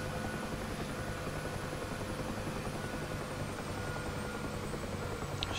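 An aircraft engine in the DCS World flight simulator runs at reduced throttle, a steady droning whine with a constant rumbling hum, even and unbroken throughout with no talking.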